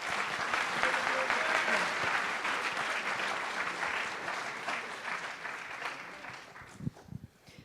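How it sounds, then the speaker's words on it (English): Audience applause for a group of high school students at a safe driving day assembly, a dense sustained burst of many hands clapping that gradually fades, followed by a few isolated knocks and a voice beginning to speak. "Please give them a round of applause."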